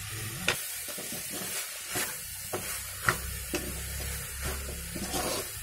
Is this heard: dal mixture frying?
yes